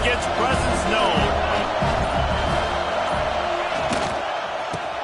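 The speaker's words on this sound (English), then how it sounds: "This crowd ready to make its presence known." A football stadium crowd roars steadily and loudly throughout, a dense wall of cheering with broadcast commentary talking over it.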